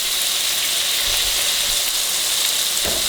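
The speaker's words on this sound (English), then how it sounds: "I'm trying to sear as much of this andouille as I can right in the pan" Andouille sausage sears in a pan for jambalaya, a loud, steady hiss and crackle of frying with a couple of brief low knocks.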